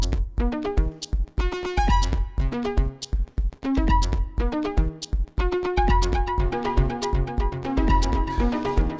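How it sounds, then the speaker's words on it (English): Elektron Tonverk synth line shaped by a filter envelope, giving plucky notes with a quick bright attack that closes down, in a busy rhythmic pattern over a low pulsing bass, loud and continuous with no talking. "but then I added the filter with some envelope."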